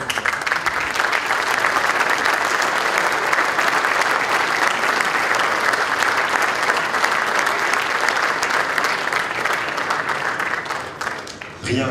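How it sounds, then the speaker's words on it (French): Dense, sustained applause from a large congress audience in a hall, steady and loud for the whole stretch with no speech over it, tapering slightly at the very end. "On l'applaudit."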